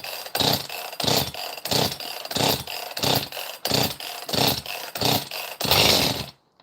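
A used chainsaw from an auction lot, its compression feeling light, is yanked through about nine rhythmic pull-start attempts. The engine then briefly catches and buzzes near the end, with no one talking.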